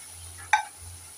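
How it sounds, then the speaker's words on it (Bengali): Fried potatoes stirred into a sizzling spice mix in a pan while cooking papaya kofta, heard as one short scraping stir over a soft, steady frying hiss. "এবার দিয়ে দেব ভেজে রাখা আলু।"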